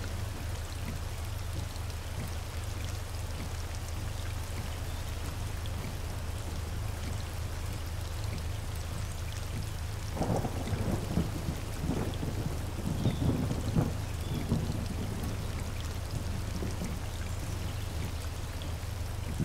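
Steady heavy rain pours across the whole stretch in the racing game Forza Horizon 4, and midway a few low rumbles and cracks of thunder roll through, loud and close without any talk.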